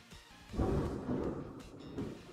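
Thunder in a Pokémon video game battle rolls through as a brief, low, rumbling crash that swells and fades over a couple of seconds.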